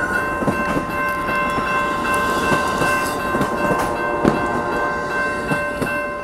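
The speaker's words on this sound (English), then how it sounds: "there goes that train going to Seattle" Amtrak Coast Starlight passenger train no. 14 rolling past at close range in Oakland, California, with a steady rumble and wheel clatter and sustained horn tones sounding over it throughout, with no talk.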